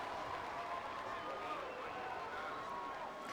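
Kamehameha fans at a high school football game against Mililani roar in a steady, sustained crowd wash as their team drives near the red zone, with a play-by-play voice running over the noise.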